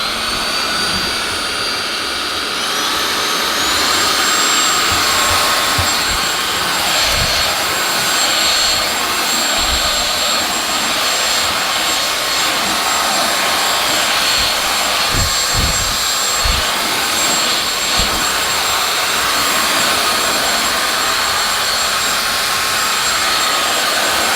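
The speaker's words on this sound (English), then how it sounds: "Let's vacuum everything else and see when it actually works." A MOOSOO cordless vacuum cleaner runs continuously for the whole stretch, a loud close high-pitched whine and rushing airflow that steps up in pitch early on, with occasional low thuds as it sucks up red chili peppers.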